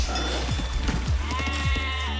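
Sheep bleat repeatedly in an Age of Empires-style strategy match, several quick wavering bleats overlapping in close succession over steady game sound.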